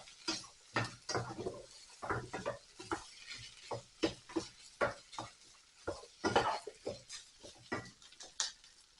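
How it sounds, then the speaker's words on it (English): Tomato purée stirred into a thick spiced lentil dal in a pot: quiet, rhythmic scrapes and knocks of a spoon against the pot, repeating about every half second. "Give that a stir, get it all coated."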